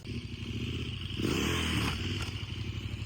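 A heavy touring enduro motorcycle chugs at low revs while crossing a log, then surges in a short burst of throttle before settling back to a rough idle, heard up close.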